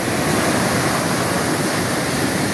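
Big ocean waves surge onto the shore on a sunny day after a storm, a loud, steady wash of surf with no voices.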